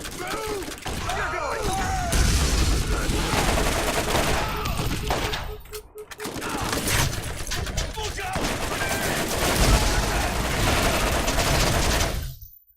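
Gunfire and grenade blasts from the video game Borderlands: dense rapid shooting and bursts run almost continuously, loud, with a short lull midway, while a player talks over the action.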